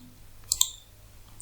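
Computer mouse clicks while working in MS Excel, two quick faint crisp clicks close together, then a third click a moment later in near silence.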